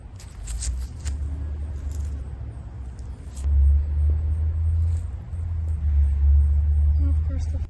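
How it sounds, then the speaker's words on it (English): A truck passes close by, its low rumble swelling and holding for several seconds while someone talks and light clinks sound in the foreground. "And of course the fucking truck."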